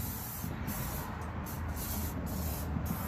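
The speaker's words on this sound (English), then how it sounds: "We're just gonna take some extra virgin olive oil, give it this little spray," Extra virgin olive oil is sprayed onto a cast iron Lodge Sportsman grill, a steady close hiss of mist with brief pauses and bursts, continuous and fairly quiet.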